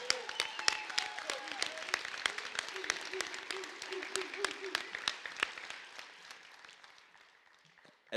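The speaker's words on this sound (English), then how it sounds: "Let's give him another round of applause," Crowd applause at a trades commencement ceremony, sustained clapping that thins and fades toward the end, with a faint voice beneath it.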